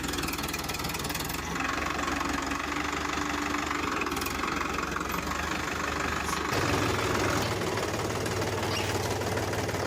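A toy mini tractor's small engine runs steadily with a buzzing, knocking idle. It stays loud and close throughout and shifts pitch partway through, with no voices.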